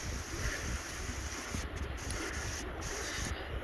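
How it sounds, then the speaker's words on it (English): A very fast-flowing river rushes in a steady, loud broadband roar that fills the whole stretch, with wind buffeting the microphone throughout. "It's such a surprise how fast flowing that river is."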